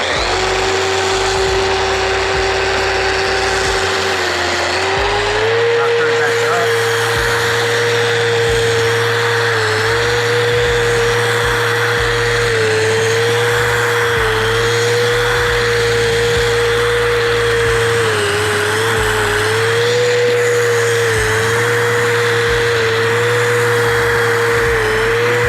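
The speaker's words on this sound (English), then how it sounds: "So we'll simply just go back to using the polishing Rotex, put it right in the middle. I'm gonna turn the RPMs down just a little bit." A Festool Rotex polisher runs at reduced speed on rustic lumber, making a steady, loud motor whine with a low hum that wavers slightly in pitch throughout and no talk.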